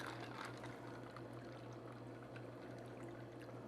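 A margarita cocktail being poured into a glass of ice, a soft continuous liquid trickle heard close but faint over a low steady background hum.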